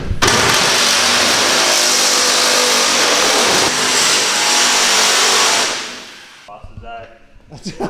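Nissan GTR race car engine held hard against the rev limiter, a loud sustained roaring blare close by that cuts off abruptly near the end, followed by quieter bursts and clatter.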